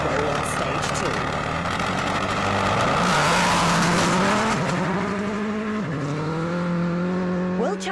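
Petter Solberg's rally car tears along an icy Monte Carlo stage, its engine revving hard and shifting pitch through gear changes, loud and close, with a commentator talking over it throughout.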